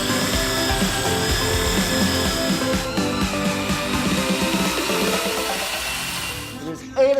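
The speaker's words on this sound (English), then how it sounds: "I just went to grab a second drill and knock this out" A power drill runs loud and continuous with a steady whine during a build converting an RV into an earth-built home, cutting off abruptly near the end.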